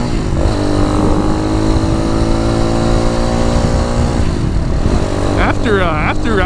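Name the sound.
RPS Magician motorcycle engine while riding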